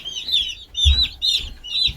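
Meat chickens kept with turkeys give four quick, close clucking calls in an even rhythm, with faint low rumbles in between and no talk over them.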